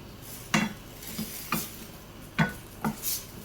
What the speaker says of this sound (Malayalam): നമുക്ക് നല്ലതുപോലെ ഇളക്കി മിക്സ് ചെയ്യാം